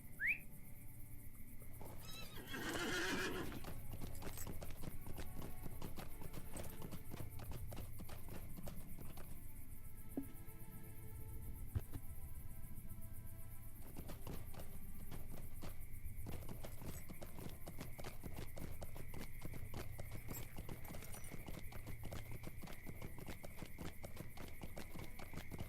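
Horse hooves clip-clop steadily along a winding road in The Lord of the Rings Online, a continuous even trot under faint ambient music, with a brief whinny near the start and no talk.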